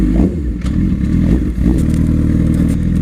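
A 2006 Suzuki GSX-R 750 sport motorcycle engine runs steadily up close, a loud, continuous low rumble with a brief dip and light mechanical clatter, no talk.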